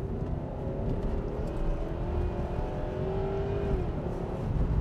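A 25-year-old Jaguar accelerating hard, a steady engine drone building and holding under full throttle, heard fairly close with broadband road and wind noise underneath.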